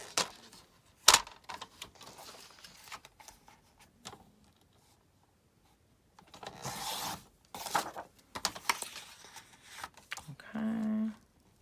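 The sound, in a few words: scissors cutting out a paper heart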